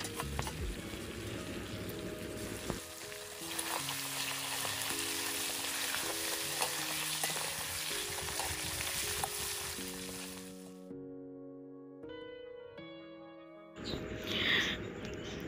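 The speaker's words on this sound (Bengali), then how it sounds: "দিয়ে মাছের মাথাগুলো খুব ভালো করে ভেজে নিচ্ছি" Katla fish heads fry in refined oil in a wok, a dense, steady hiss of bubbling oil running for about eleven seconds with music over it, then fading out as the music continues.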